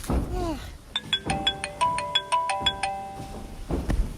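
A mobile phone ringtone rings out in a rising series of bright chime notes, clear and fairly near, with a voice speaking at the start and end.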